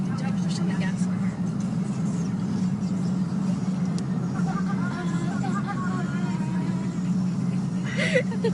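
A car engine hums steadily and loudly throughout as the vehicle is driven with the gas pedal pressed, with a person talking over the constant drone.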